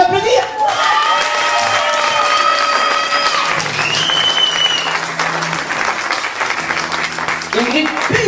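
Concert audience clapping for the guest performers, dense sustained applause with scattered cheers, while someone talks loudly over it at close range.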